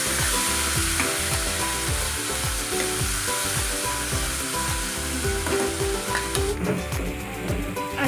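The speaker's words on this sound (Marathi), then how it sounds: "अशा प्रकारे तेल सुटेपर्यंत भाजून घ्यायचं आहे." Tomato paste and onion frying in oil for pav bhaji, a loud, continuous close sizzle with steady rhythmic stirring and scraping in the pan, no voices.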